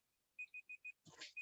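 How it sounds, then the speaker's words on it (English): An alarm beeps four times in a quick even rhythm, close and clear against near silence, then a short noisy burst passes before one more beep sounds. "That's my alarm telling me I'm going on a bit."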